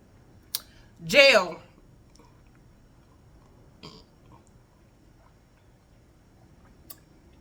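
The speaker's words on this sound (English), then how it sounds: "Excuse me. I burped." A single short burp rises briefly over a quiet room, followed by a couple of faint clicks and small noises.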